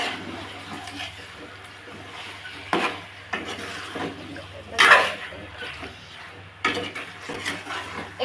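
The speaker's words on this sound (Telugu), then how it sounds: "ఇలా చికెన్ని హై ఫ్లేమ్లో కలుపుకోవాలి. ఆయిల్ బాగా మిక్స్ అయ్యే విధంగా కలుపుకోవాలి చికెన్ని." Chicken stirred in hot oil in a pan over a high flame for dum chicken: steady low sizzle under repeated scraping and clanking stirs, with a few sharper metallic knocks against the pan.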